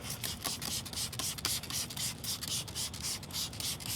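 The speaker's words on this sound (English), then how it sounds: "I'm gonna spray the rim down." Cleaner sprayed onto a scratched Jeep Rubicon's wheel rim in a run of quick hissing bursts, close and fairly loud, pulsing irregularly with short gaps and no talking.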